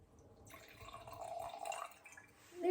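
A little red wine trickles from a bottle into a glass in a quiet room, a soft liquid pour for about a second and a half, ending with a faint knock.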